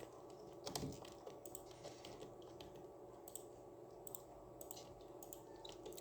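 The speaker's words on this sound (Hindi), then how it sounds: "कंट्रोल दबा के टेबल को दबा देते हैं" Ctrl and Tab keys pressed on a computer keyboard during software work, heard as a few faint, sparse key clicks over a steady background hum, with one slightly louder press near the start.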